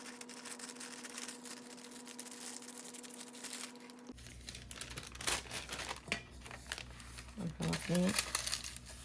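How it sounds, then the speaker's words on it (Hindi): Parchment paper being cut to fit an 8-inch baking pan, heard close up as crinkling and rustling with snips and tearing. A steady hum runs under the first half, and the later sheet handling comes in louder bursts. "इसके लिए बिल्कुल इसके साइज़ का पार्चमेंट पेपर काट लेंगे हम।"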